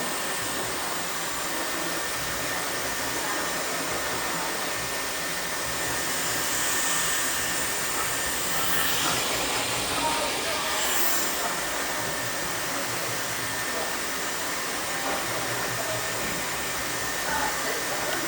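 A hair dryer blows continuously on long hair at home, a loud, steady whooshing roar held close for the whole stretch with only slight shifts as it moves.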